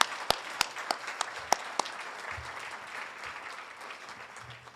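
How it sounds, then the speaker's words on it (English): Scattered audience clapping at a journalism hall of fame awards ceremony, starting with a few sharp individual claps and quickly settling into a light, steady round of applause that holds to the end. "We'll clap for him anyway."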